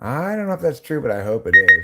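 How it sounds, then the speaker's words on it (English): A phone reminder alarm gives two short, bright beeps near the end, sounding over a man's close-up speech. "phone telling me half an hour warning."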